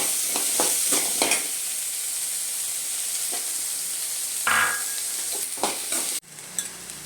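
Cleaned small shallots sizzling in hot oil in a pan, a steady frying hiss broken by scraping stir strokes, a louder burst of sizzle midway and a sharp drop near the end.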